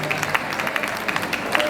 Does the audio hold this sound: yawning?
no